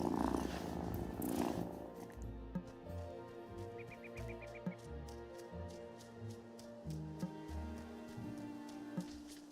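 A cat purrs steadily in a video game, a soft continuous rumble running the whole time beneath game music and ambience, with no talking.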